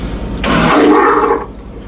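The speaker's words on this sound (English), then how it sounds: "Hit that button on the top, it gives you a rinse, and it pushes the water and the waste into the tank." A boat's marine toilet flushes its bowl into the holding tank, giving one loud, gurgling rush of water that starts abruptly and tails off after about a second.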